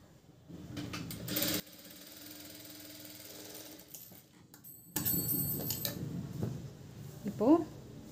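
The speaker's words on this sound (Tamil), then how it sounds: "இப்போ இது வரைக்கும் வந்து நம்ம வந்து ஸ்டிச் பண்ணிக்க போகிறோம்" Sewing machine stitching the front of a blouse in a tailoring workshop, running in short bursts of rapid mechanical whirring with pauses, heard under a person talking.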